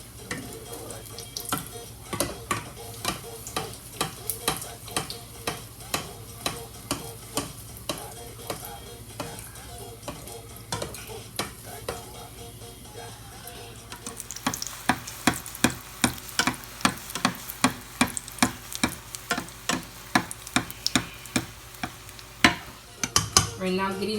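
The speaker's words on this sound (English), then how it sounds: "I like to put oil a little bit all around it so it can help cook the egg from the top." Egg-battered chile relleno frying in a pan of oil, a steady crackling sizzle with repeated sharp ticks and pops that grow denser and louder in the second half, heard alone without talk.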